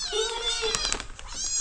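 Two hungry cats clamour for their food, loud insistent meows and caterwauling overlapping in quick succession, near and shrill over low background noise.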